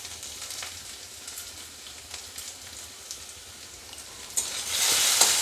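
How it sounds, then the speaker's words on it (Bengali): Potatoes fry in a pan with salt, a soft continuous sizzle with light crackles that swells louder toward the end, no talking. "লবণটা দিয়ে আমি একটু ভালো করে আলুটাকে ভেজে নেব"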